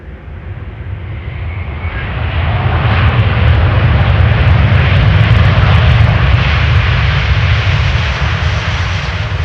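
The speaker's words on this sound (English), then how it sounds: "Now we can see another airplane in the background flying to the glide slope. That would be an ITA Embraer 195 from KLM, arriving from Berlin." An Embraer 195 airliner approaches to land at Amsterdam Schiphol near runway 18R Polderbaan. Its distant jet roar grows louder and holds as a broad, steady rumble with no voices.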